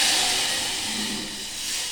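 Buttermilk hits a hot pan of tempering for a bottle gourd kadhi, a loud, steady steamy hiss that slowly eases off over two seconds.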